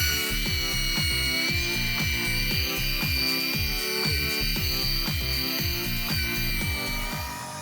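A rotary polisher buffing oxidation off a boat hull with marine compound, a steady high motor whine with a rhythmic pulsing drone underneath, close and continuous, easing slightly at the end.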